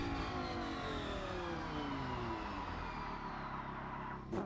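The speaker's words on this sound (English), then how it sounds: "You can hear the tyres screeching there." Engine note in the Rennsport racing simulator sweeping steadily downward as the car brakes hard with locked tyres, with a squealing tone layered over the decelerating drone, fairly quiet and free of talk.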